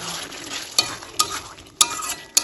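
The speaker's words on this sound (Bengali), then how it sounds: "চিকেনটা মশলার সাথে ভালোভাবে কষিয়ে নেব" Chicken curry pieces with spices and whisked yogurt frying in a pan, a steady close sizzle broken by four sharp metallic scrapes of a spatula at uneven intervals.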